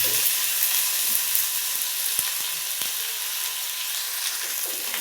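Dried fish and dried red chilies fry in a pan with a steady, even sizzle close up, with no talking.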